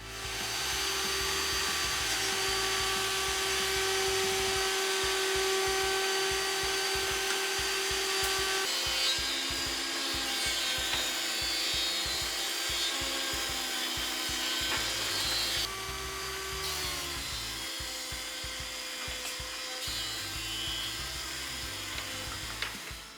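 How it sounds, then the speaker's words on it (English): Rough wood boards about 22mm thick are run over a jointer and fed through a thicknesser, a loud steady machine whine with rough cutting rasp that shifts pitch as each board passes, with no voices. "I'll run these over the joiner on two sides, and then pop them through the thicknesser."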